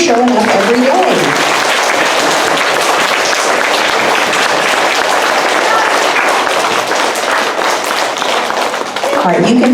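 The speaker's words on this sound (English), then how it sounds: "so we can give you a big round of applause" A large audience applauds students at a school ceremony, loud and dense clapping filling the whole stretch, with some voices mixed in at the start and end.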